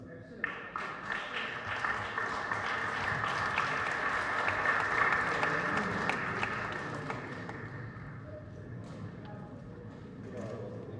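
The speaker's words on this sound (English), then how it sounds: "Round of applause." Audience applause at a formal gathering, starting with a few scattered claps, swelling into a full steady ovation, then thinning toward the end, heard from a moderate distance.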